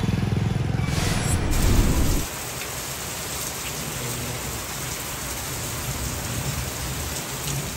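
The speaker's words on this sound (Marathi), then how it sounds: "सायंकाळी खेड तालुक्यात सोमवारी 19 ऑगस्ट रोजी अनेक ठिकाणी मुसळधार पावसाने हजेरी लावली" Heavy monsoon rain pours in Khed taluka, a loud dense hiss of rain on surfaces, louder and harsher in the first two seconds, then a steady even downpour to the end.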